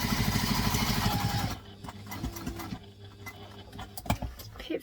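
Sewing machine stitching a backpack, a fast rhythmic mechanical whirr for about a second and a half, then stopping, followed by quieter handling clicks and rustles nearby.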